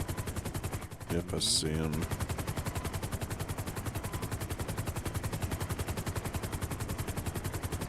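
Sustained rapid automatic gunfire in GTA 5 roleplay, a steady loud rattling burst that runs through the whole stretch, with a brief voice speaking over it near the start.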